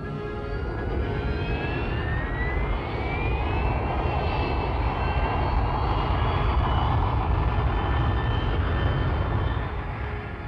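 Harrier-type Kestrel jump jet engine running at a small unprepared field site, a loud continuous roar with a rising whine that holds steady for about ten seconds.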